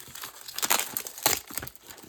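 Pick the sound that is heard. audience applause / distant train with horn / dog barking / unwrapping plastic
unwrapping plastic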